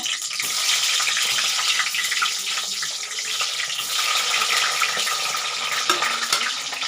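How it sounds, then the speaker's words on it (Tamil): Eggplant pieces fry in hot oil in a pan, giving a steady, fairly loud sizzle with crackling pops and occasional stirring, with no talk over it. "இப்போ இந்த கத்திரிக்காயை நம்ம ஒரு எழுபது சதவீதம் எண்ணெயில் ஃப்ரை பண்ணிக்கலாங்க"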